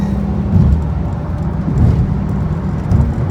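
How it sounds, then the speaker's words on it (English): BMW E60 M5 engine on a freeway during a downshift, giving a loud, steady low rumble with a few swelling surges of engine roar over constant road noise. "Downshift a little bit, because that's what we do when we get into deeper traffic."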